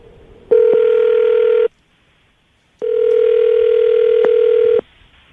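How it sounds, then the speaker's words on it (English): Telephone ringback tone on an outgoing call, two loud steady electronic tones separated by a short silence, heard alone. "I'm going to call it right now"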